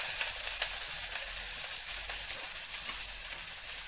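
Seasoning sizzling and frying in oil warmed over a medium flame in a pan, a steady close crackling hiss with small pops running throughout.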